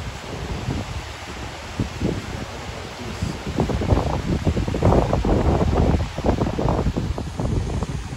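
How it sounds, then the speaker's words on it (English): Strong outdoor wind buffets the microphone in loud, roaring gusts that build and ease over several seconds, near the Keeper of the Plains and Veterans Memorial Walk, with no voices. "Windy today."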